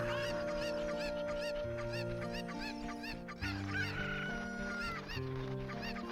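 Cucco chickens in the Ocarina of Time 3D video game cluck and squawk over steady background game music.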